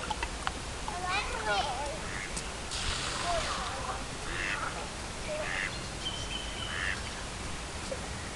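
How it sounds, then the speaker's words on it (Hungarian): Ducks quack at Lake Balaton, scattered short calls from the water set against steady outdoor background noise, with voices talking nearby throughout. "Nézzük meg a kacsát."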